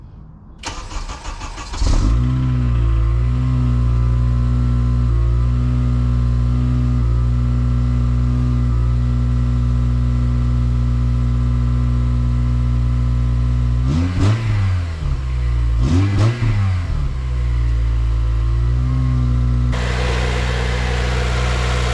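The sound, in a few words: Honda Civic Si FA5 engine revving, stock airbox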